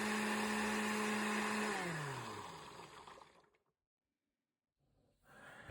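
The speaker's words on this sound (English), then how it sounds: "transfer this over to the blender that we have in here, and I'm gonna go ahead and process the samples" A kitchen blender runs loud and steady as it processes nanocellulose pulp fibers with water. Its motor winds down to silence, and a second burst of whirring starts at the end.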